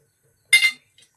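Metal plates clink sharply together once while being greased with drops of oil, followed by a faint second tap, close and otherwise silent.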